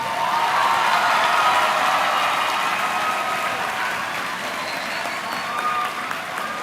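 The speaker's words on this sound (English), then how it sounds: "Please give these students a round of applause." Loud, sustained applause from a graduation audience honoring high school students, steady clapping filling the hall for several seconds before easing slightly toward the end.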